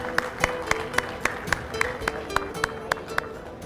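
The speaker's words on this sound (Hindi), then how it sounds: "आपकी बहुत सारी तालियों में तशरीफ़ लाते हैं अदरीस कुरैशी साहब।" Audience at an Eid mushaira poetry gathering welcoming a poet onstage, heard as a steady series of sharp, evenly spaced claps over a soft crowd murmur, with no talk over it.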